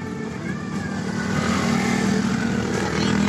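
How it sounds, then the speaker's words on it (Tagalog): A motorcycle overtaking on a mountain road at Mt. Samat, its engine drone swelling steadily louder as it draws near over a few seconds, heard from inside a moving vehicle. "Yung overtake pang motor."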